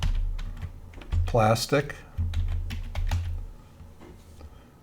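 Computer keyboard keys clatter in quick irregular bursts while a search is typed, close and crisp, with someone speaking briefly over the tapping.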